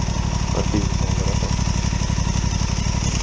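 An Aprilia Tuono 660 Factory motorcycle engine idles steadily with a rapid, throbbing low pulse throughout, close and continuous, with a faint voice briefly audible underneath.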